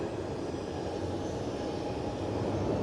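A Ryanair airplane roars steadily and loudly with a dense, broadband engine rumble, holding a constant level throughout with no voices.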